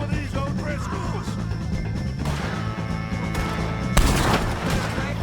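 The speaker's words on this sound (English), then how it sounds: "shoot some of these O'Driscolls" Gunfire in a Red Dead Redemption 2 shootout against O'Driscoll gang members cracks amid crashing impacts and a continuous din, with a heavy burst near the end, under in-game voices.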